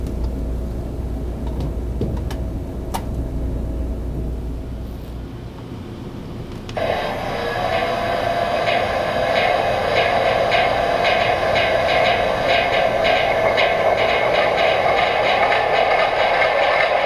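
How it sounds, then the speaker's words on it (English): An MTH Premier O scale Union Pacific GE U50C diesel locomotive model's sound system starts up partway through, giving a steady, loud engine drone that runs on without pause, with quieter background noise before it. "the master volume for the sound for the locomotive right here"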